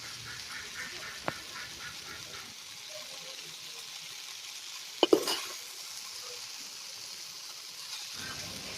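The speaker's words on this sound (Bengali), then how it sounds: "এইভাবে নাড়াচাড়া করতে করতে কিন্তু এই ভাজিটা তৈরি হয়ে যাবে" A pumpkin flower and soybean vegetable fry being stirred in a pan: a soft, continuous sizzle with a few faint scrapes and one sharper clank of the utensil against the pan.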